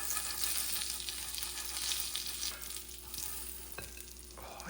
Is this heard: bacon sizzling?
yes